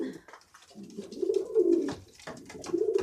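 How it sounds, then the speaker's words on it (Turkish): A brown pigeon coos in a nest in low, throaty warbling phrases, close by and fairly loud, repeating several times with brief pauses and faint rustling between. "kahverengi yuvaya girmiş ötüyor"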